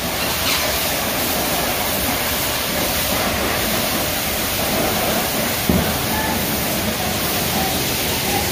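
Pressure water spray washing a 2010 Toyota Fortuner, a steady loud hiss of spraying water that runs without a break, close to the mic, with one brief knock partway through.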